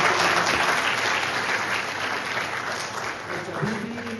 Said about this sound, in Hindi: इनके लिए एक जबरदस्त ताली हो जाए